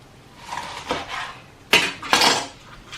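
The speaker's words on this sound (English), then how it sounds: "And then you just slice it however big of chunks you want" A knife cutting an onion into chunks on a board, with a few soft strokes followed by two sharper, louder chops close by.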